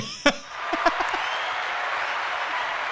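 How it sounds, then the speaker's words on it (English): Audience applause swells after a sharp opening clap, settling into steady, dense clapping from a crowd at a sports event. "Round of applause for Nicole."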